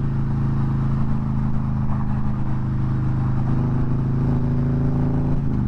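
A motorcycle cruises at highway speed with a rider's helmet visor closed and a fork-mounted wind deflector fitted, its engine a steady, loud drone with harmonic hum and rushing wind noise throughout, no talking.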